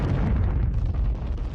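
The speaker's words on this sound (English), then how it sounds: "The explosion creates a crater over 150 kilometers wide." An asteroid impact explodes in a dense, roaring low rumble that holds steady and loud throughout, like a sustained blast, with no talk.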